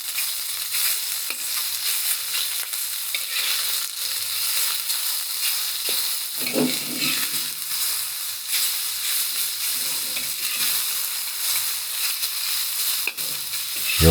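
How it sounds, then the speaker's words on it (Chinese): Fish slices stir-frying in a wok over high heat, a steady close sizzle and hiss with scraping stirs and turns throughout, no talking. "尽量不要用快速翻炒的动作来炒， 很容易炒碎，要用煎翻的动作来进行"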